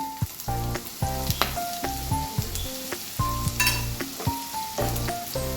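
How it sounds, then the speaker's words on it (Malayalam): Chopped onions sizzle in oil for a paneer curry, a constant frying crackle overlaid with rhythmic, pulsing tonal sounds and light clinks of stirring, with no speech. "ഇനി ഇതേ എണ്ണയിലേക്ക് തന്നെ നമുക്ക് സവോള ഇട്ട് കൊടുക്കാം."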